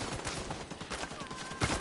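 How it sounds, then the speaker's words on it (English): Gunfire in The Division, a rapid burst of automatic shots rattling through a busy combat scene, fairly close and sustained for a couple of seconds. "Oh, I'm being shot at, Mao."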